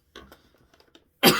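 A single loud, harsh cough from a man with a lingering cough during a Bible lecture, bursting out close and abrupt after a stretch of faint, breathy murmuring.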